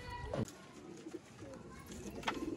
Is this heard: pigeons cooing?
yes